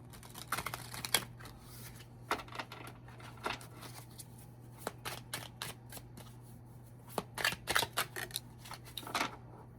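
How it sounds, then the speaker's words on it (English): Tarot cards shuffled by hand in a quiet room, giving irregular crisp riffles and taps in scattered bursts over a low steady hum, close and fairly soft. "let's go ahead and shuffle the cards"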